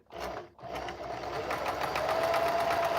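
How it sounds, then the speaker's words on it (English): A sewing machine stitching in a quick, even rhythm, starting after a brief pause and running steadily and close up to the end. "I'm going to be sewing here very awkwardly."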